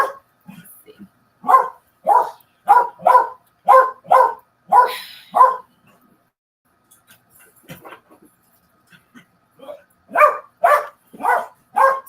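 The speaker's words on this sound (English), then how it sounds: "I guess y'all hear my dog in the background" A dog barks repeatedly in short, evenly spaced bursts in the background of a hosted talk show, pausing briefly before another run of barks.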